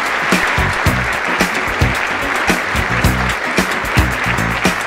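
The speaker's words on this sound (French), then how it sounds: "Applaudissons notre président, il va venir me rejoindre, Monsieur Anya Martin." An audience at a company showcase applauds, dense steady clapping from many hands filling the room, loud and continuous, with occasional louder claps.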